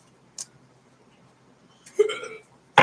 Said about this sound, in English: You getting the hiccups?